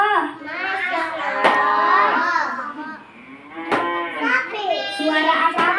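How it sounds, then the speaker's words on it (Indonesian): Cattle moo in long, loud, drawn-out calls, one after another and close by, with a few sharp clicks between them and children's voices mixed in. "Ini sapi."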